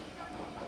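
A southbound train from Myokenguchi rolls past in the Japanese mountains, a steady, fairly loud rumble and rattle of rolling wheels through the whole short stretch.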